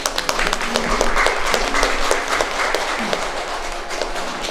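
Wedding banquet guests clap in steady applause to welcome the groom as he takes the microphone, a dense crowd patter sustained over a murmur of voices.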